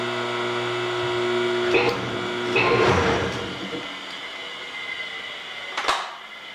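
A motor powered through a phase converter for a shop press starts up with a steady mechanical whine and hum, then bursts of rattling racket and a sharp clunk near the end, fairly loud with no talk.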